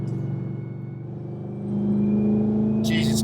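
A StreetFighter SF850R supercharged ZL1 Camaro pulls on a freeway, its engine a low steady drone that swells as it accelerates, heard from inside the car.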